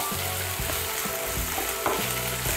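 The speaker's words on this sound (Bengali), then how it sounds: "আদা বাটা রসুন বাটাটা ভালো করে মিশিয়ে নেব। মিশিয়ে নিয়ে হালকা একটু ভেজে নেব।" Ginger and garlic paste frying lightly in a pan for a Bengali cabbage and egg curry, a dense continuous sizzle with soft rhythmic stirring thumps of a spoon against the pan.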